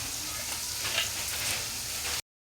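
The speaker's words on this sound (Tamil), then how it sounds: "புதினா மல்லி போட்டுங்க" Mint, coriander and ginger-garlic masala sauté for kothu parotta in a hot pan, giving a dense, continuous sizzle with light stirring; the sound stops abruptly near the end.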